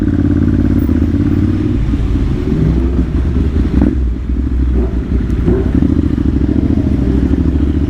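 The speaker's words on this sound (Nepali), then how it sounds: "है सिबिआर कत्रो करा।" A Honda CBR motorcycle engine roars in a steady, loud, close rumble with no breaks, idling and revving with a little mechanical clatter.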